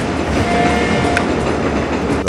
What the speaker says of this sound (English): Those noisy trains.